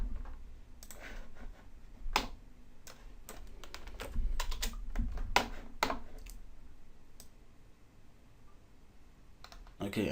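Keys clatter on a computer keyboard in short irregular bursts of close, crisp clicks, with a voice talking quietly in between.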